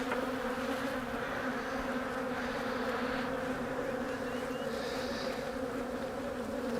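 Honey bees buzzing steadily during a three-way split beehive inspection, a dense continuous hum from many bees close by, filling the whole stretch with no talk.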